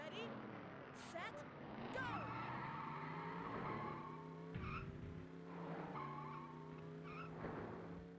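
Tires squeal and skid as a car spins out in the Cruis'n USA arcade racing game, with long wavering screeches over a droning engine tone that rise and fall several times throughout.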